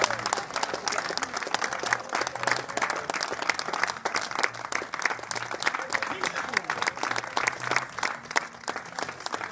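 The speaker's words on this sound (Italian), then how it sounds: "Un applauso." Audience applause at an arts-and-medicine gathering after a call to hug, steady dense clapping that runs the whole time, with voices chatting and calling out underneath.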